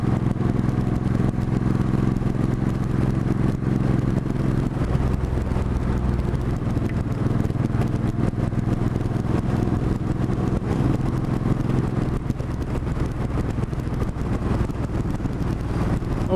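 A Ferrari Testarossa and a group of motorcycles driving on the road, heard as a steady engine drone under heavy wind rush from a riding motorcycle, continuous and without talk.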